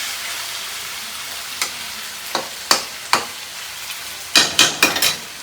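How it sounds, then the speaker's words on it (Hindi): Onions and spices fry in a pan under a soft steady sizzle, broken by several sharp scraping and clinking strokes of a spoon, some single and some in quick clusters near the end. "कैसे प्याज इतना था धीरे धीरे फ्राई हो रहा है"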